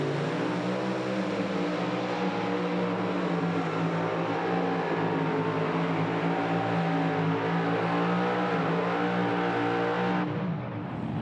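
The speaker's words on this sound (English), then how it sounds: "And unfortunately for Reese Shelton, that tractor moving around just a little bit is going to cost him some distance" A super modified pulling tractor at a Pro Pulling tractor pull in Farley, its engine roaring loud and steady for the whole stretch before easing off right at the end.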